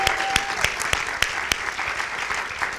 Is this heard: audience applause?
yes